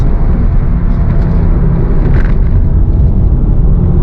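A 2023 Honda Civic Type R engine roars loudly and steadily through the whole stretch, building under throttle with a deep rumbling low end and no speech.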